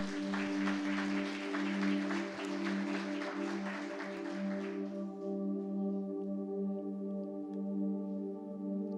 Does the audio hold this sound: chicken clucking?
no